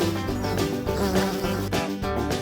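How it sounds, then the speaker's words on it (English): A bee buzzing with a steady, continuous drone that stays loud and close throughout, with no voices. "bee"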